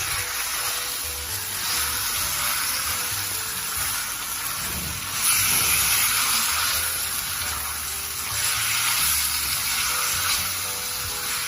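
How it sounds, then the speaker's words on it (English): Pork spareribs sautéing on high heat for a Filipino afritada in a home kitchen, giving a steady, moderate sizzle with a watery hiss that swells slightly a couple of times, no talking. "I'm going to saute that on high heat"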